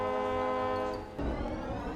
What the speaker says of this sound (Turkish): korneyi çaldık